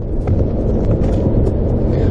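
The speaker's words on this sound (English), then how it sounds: "Wow, that's a bit of a wind coming through there." Wind blowing through a mine passage near the sea, a loud steady low rush and buffeting that persists throughout, with no speech over it.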